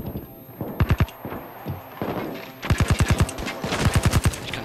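Bursts of rapid automatic gunfire in the video game Payday 2, several sharp rattling volleys close and loud, separated by brief pauses with scattered single shots.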